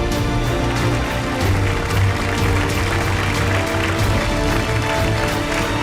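An audience applauds a magician's stage illusion with a dense, steady wash of clapping that runs throughout, with music sustained underneath.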